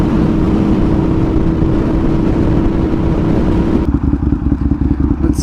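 Aprilia RSV 1000R motorcycle engine roars loudly and close, a dense continuous throb that eases off slightly toward the end.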